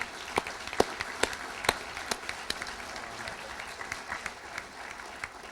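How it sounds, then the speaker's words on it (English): Audience applause at a chamber of commerce annual meeting, fairly faint and distant, with several sharp individual claps standing out early before thinning into a softer patter. "Let's all give them a round of applause for their time and commitment to your chamber."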